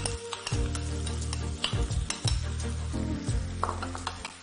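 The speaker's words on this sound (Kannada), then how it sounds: "ಈಗ ಆನಿಯನ್ ಹಾಕ್ತಿದ್ದೀನಿ. ಅವೆಲ್ಲ ಸ್ವಲ್ಪ ಒಟ್ಟಿಗೆ ಫ್ರೈ ಆದರೆ ಚೆನ್ನಾಗಿ ಬರುತ್ತೆ ಸ್ಮೆಲ್." Onions frying in a pan with hot oil, a steady sizzle broken by repeated scraping and stirring clatter of a utensil against the pan, close and fairly loud, with no talking.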